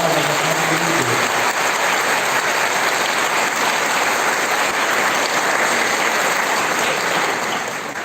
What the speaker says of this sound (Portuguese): Uma calorosa salva de palmas a cada um de Deus.